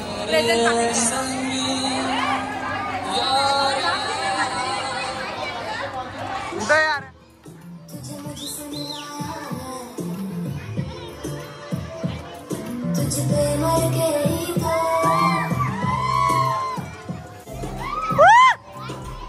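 Busy crowd chatter fills a wedding hall after the ceremony as guests and children talk, laugh and shout over one another, a dense lively hubbub with a brief lull partway through and excited children's cries near the end.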